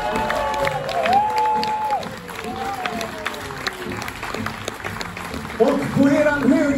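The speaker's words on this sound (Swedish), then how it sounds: "en stor varm applåd till Josef Eriksson." Concert audience in a community hall applauding and cheering as a band member is introduced, loud clapping with whoops and shouts, plus a musical tone sliding in the background.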